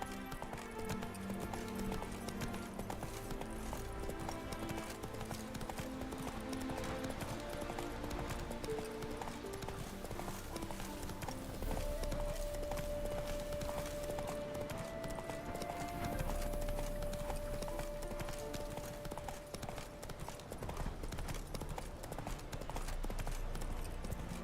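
Roach, the horse in The Witcher 3, galloping with steady rhythmic hoofbeats under game music and ambience, moderately quiet and continuous throughout.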